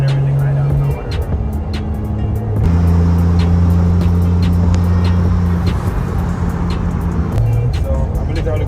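A Toyota Soarer fitted with a T56 gearbox revs loud and close inside the cabin, its engine note climbing, dropping at each shift and climbing again as it moves up through the gears.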